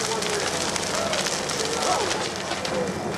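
Fire burns steadily through insulated test structures of cellulose and fiberglass, a broad continuous roar and crackle at even loudness throughout, with faint bird calls scattered over it.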